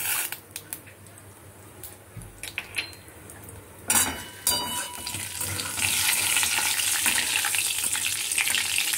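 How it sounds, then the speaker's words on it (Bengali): Black cumin seeds hit hot oil after a few sharp clinks and stirring taps, and a bright sizzle swells and then holds steady and close through the second half. "কালো জিরাগুলো ভাজা ভাজা যখন একটু একটু হয়ে যাবে"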